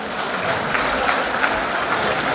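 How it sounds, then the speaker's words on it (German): Brief applause from guests at a German carnival club gathering, a steady patter of hands clapping throughout without a pause. "Unsere Elfriede, einen kleinen Applaus,"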